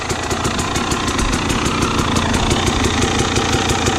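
A dirt bike engine idles steadily and loudly up close after hand guards, radiator guards and a new fuel petcock are fitted, a constant rapid mechanical throb with no talking over it.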